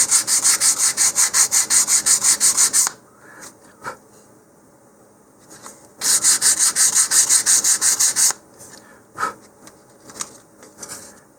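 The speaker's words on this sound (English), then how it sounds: "Looks like we need a little bit more sanding on this edge." Steady rhythmic rasping of sandpaper on the wooden edge of a model rocket part, two long bursts of quick back-and-forth strokes separated by a pause with a few light scrapes and knocks.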